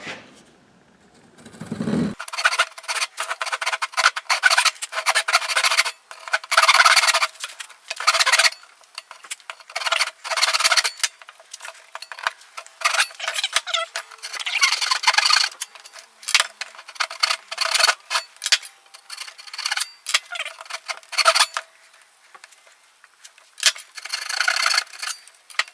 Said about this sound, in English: then we're going to saw it, and we're going to keep a close watch and make sure we're not making a 90-degree cut, but we're doing an angled cut